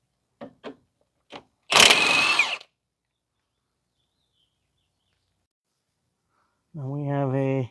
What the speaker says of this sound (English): we are going to remove the two nuts and the one bolt holding the control arm ball joint in place